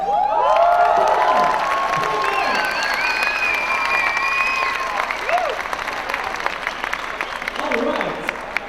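A large crowd at an evening climbing competition show applauds and cheers, with dense, sustained clapping and excited whoops and shouts rising over the roar before it slowly settles.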